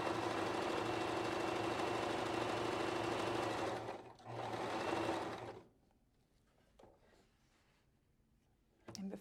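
A bernette b33/b35 sewing machine stitches a decorative pattern with a steady, even mechanical hum. It stops briefly, runs again, then goes quiet, leaving faint clicks.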